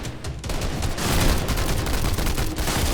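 Gunfire erupts in a Fortnite match as a dense, loud barrage of rapid shots. Overlapping blasts from nearby fill the whole moment without a break.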